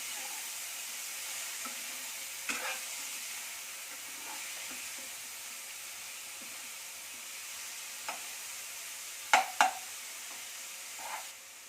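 Tomato and onion frying in a pan for egg curry, a steady soft sizzle and hiss with occasional scraping clinks of a spoon stirring, fairly quiet and close, no talking.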